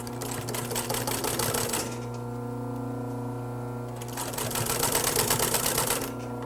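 A sewing machine stitches a half-inch seam on a sofa cushion in two quick bursts of rapid needle chatter separated by a pause with only a low motor hum, close and fairly quiet.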